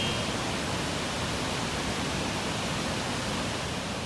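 Victoria Falls in Zambia, with water flowing at the start of the rainy season, gives a constant, dense roar of falling water, steady and unbroken, with no voices.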